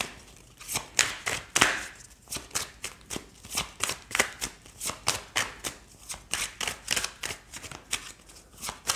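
Oracle cards are shuffled steadily by hand, a close series of crisp riffling flicks repeating in a quick even rhythm throughout, with no talking.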